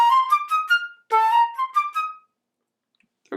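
A flute plays two brief phrases of crisp, separated staccato notes, heard alone and close, each phrase stopping short before silence.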